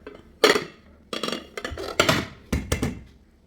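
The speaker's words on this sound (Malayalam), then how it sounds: "ഇനി നമുക്ക് ഒരു പ്ലേറ്റ് വെച്ചിട്ട് പ്ലേറ്റിലേക്കൊന്ന് ഫ്ലിപ്പ് ചെയ്തെടുക്കുക." A mould of banana milk pudding, made with milk and cornflour, is flipped onto a plate, giving several sharp clanks and clatters of dish against plate in separate bursts, close and clear.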